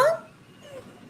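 A pet dog gives a brief high yip or whimper right at the start, close and clear, then the room falls to quiet background noise.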